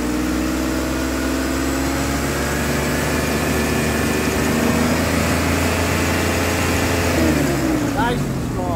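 A 2003 Ford Explorer engine with a misfire, running after a pulley tensioner repair, hums in a steady, close idle that holds evenly through the whole stretch with a smooth, continuous drone.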